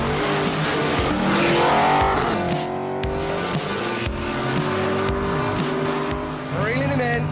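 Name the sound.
fastest ute in the world accelerating, tyres squealing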